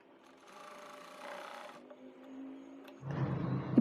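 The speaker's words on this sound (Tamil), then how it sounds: "ஒரு ஸ்டிச் போட்டுக்கணும்." A sewing machine stitches a frill frock, a close, fast whirring run for about a second before pausing, followed by softer mechanical movement and then a louder burst of handling near the end, with no speech.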